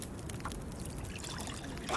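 Water trickling and pouring steadily into a cooking pot in the survival video game The Long Dark, a continuous close stream for about two seconds.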